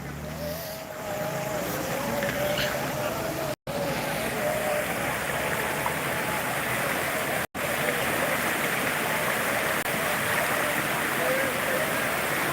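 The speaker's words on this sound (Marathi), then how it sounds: "त्या शेतीतून मोठ्या प्रमाणात पाण्याचा प्रवाह पुलाच्या बाजूला येत आहे" Floodwater pouring off farmland and rushing past a bridge, a steady loud roaring wash with wind buffeting the microphone, heard up close with faint background voices.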